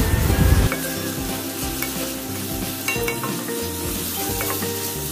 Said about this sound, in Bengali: পেঁয়াজটা দিয়ে ভালো করে এটাকে ফ্রাই করে নেব টিল গোল্ডেন ব্রাউন